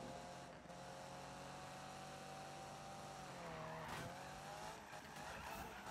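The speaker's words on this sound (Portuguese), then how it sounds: "Vamos arrebentar no drift." Tires squeal in a long sustained wail as a car drifts in the Need for Speed 2015 racing game, the engine droning underneath at steady loudness, with a brief scrape near the end.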